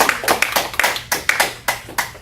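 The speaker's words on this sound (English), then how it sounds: "round of applause?" An audience gives a round of applause for vision-impaired guest speakers: a few people clapping close by in loose, uneven claps that repeat over about two seconds.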